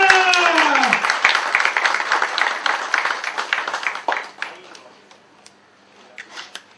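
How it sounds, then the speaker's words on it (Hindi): An audience on the set of a TV serial bursts into dense, loud applause that continues for several seconds and then fades to scattered claps, close by, with a voice briefly at the start. "तालियां।"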